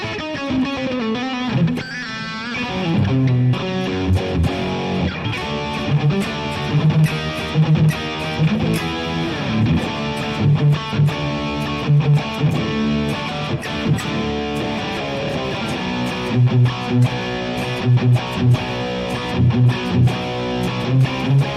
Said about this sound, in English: Guitar sounds good